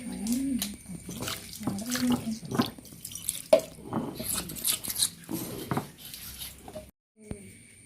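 Tap water runs and splashes intermittently as kodavan leaves are rinsed under it in a kitchen, with irregular spatters and handling sounds, a brief pause, then a final splash.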